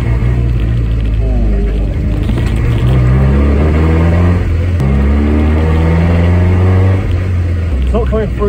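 A modified Triumph Herald engine rumbles loud and close on a test drive, rising and falling in pitch through several uneven revs, with a voice speaking over the engine.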